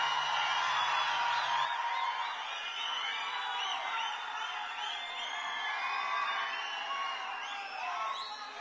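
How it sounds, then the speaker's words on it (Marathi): Crowd at a political rally in Manmad, a broad sustained roar of cheering and whooping from a large gathering, steady and fairly loud throughout, with scattered shouts rising above it. "जोरात टाळ्या झाल्या पाहिजेत."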